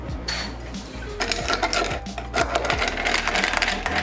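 Whiskey cocktail infused with brown butter stirred in a mixing glass, ice clinking and rattling steadily against the glass in quick irregular taps, close and fairly loud with no talking.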